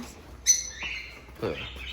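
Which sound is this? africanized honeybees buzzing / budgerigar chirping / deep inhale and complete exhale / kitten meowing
budgerigar chirping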